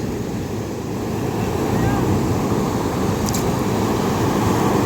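Steady roar of surf and breaking waves with wind buffeting the microphone, loud and continuous throughout.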